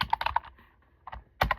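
Quick bursts of typing on a computer keyboard, clusters of close clicking keystrokes separated by a short pause, fairly quiet and with no talking.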